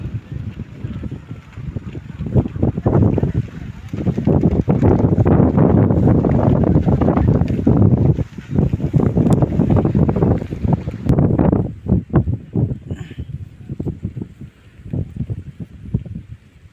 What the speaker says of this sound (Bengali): প্রচণ্ড বাতাস, আকাশ অনেক মেঘলা।